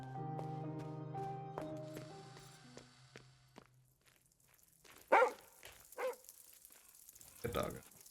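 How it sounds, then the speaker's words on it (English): A dog in the video game Lorelei and the Laser Eyes gives a few sharp barks after a fading musical chime, the barks short, spaced and fairly close. "Good dog."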